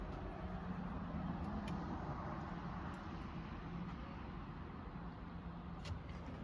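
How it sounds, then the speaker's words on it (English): Road traffic rumbles steadily outside a vet clinic, faint and continuous, with a few brief clicks and no talk. "I can't hear you for the traffic."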